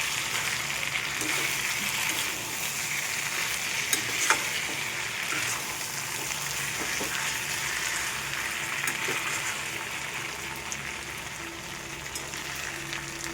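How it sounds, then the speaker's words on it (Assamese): Goat meat frying in its own rendered fat in a pan, a steady, close sizzle with faint stirring scrapes throughout and no talking. "এইফালে পুৰা মাংস ভাজি আছোঁ"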